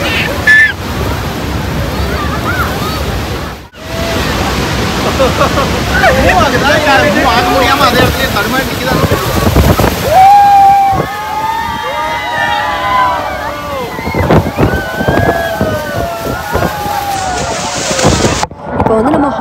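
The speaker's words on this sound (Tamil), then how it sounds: "இப்போ வந்து நம்ம ஹார்ஷூ ஃபால்ஸ் பக்கத்துலேயே ரொம்ப க்ளோஸில் இருக்கோம்" Horseshoe Falls at Niagara roars as a loud, constant wash of falling water and spray beside the Maid of the Mist tour boat, with excited crowd voices and talking over it throughout.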